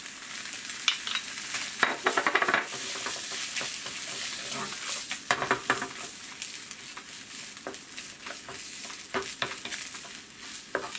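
Kajika sculpin dressing being mixed with green onion and fish gills, a steady wet stirring and squelching with soft clicks of utensils, close and continuous.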